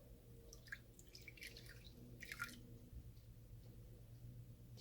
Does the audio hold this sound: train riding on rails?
no